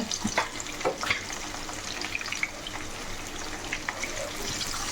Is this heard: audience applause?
no